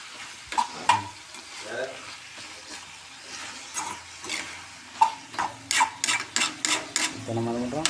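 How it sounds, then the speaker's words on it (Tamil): Tomatoes sautéing in a pan for chutney, with a steady sizzle under repeated sharp scraping and stirring strokes that quicken toward the end; faint voices drift in now and then. "இப்போ நம்ம என்ன பண்ணுறோம், தக்காளி நல்லா வதக்குறோம்."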